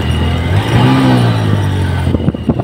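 A motorbike engine labours up a steep hill climb, revving loud and close with a rising, straining drone before some bumpy knocks near the end; no talk.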